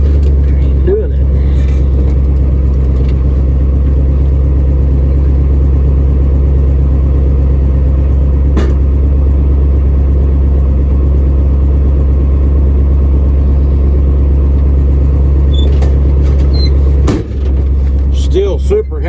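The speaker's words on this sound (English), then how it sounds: "Still super happy with my old blue and white 76 GMC feed truck." An old blue and white 1976 GMC feed truck drives along with the window down, giving a loud, steady low engine rumble and road drone throughout, with a few brief knocks near the end.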